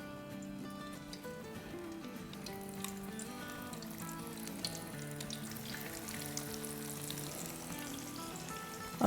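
Potato kababs fry in a pan with a steady, quiet sizzle, while faint background music or tonal hum plays underneath.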